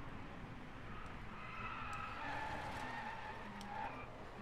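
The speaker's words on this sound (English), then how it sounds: "That was a pretty decent drift, if you ask me." Tires squeal as a car drifts and skids in the racing video game Drive Club, a sustained tonal screech over steady engine noise, held for several seconds at moderate level.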